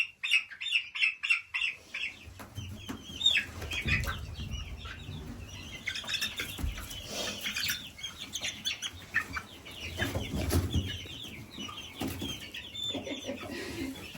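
Barred Rock hens in a warm coop give soft, repeated clucks and chirps. A quick run of short calls comes first, then scattered clucking continues over rustling and shuffling close by.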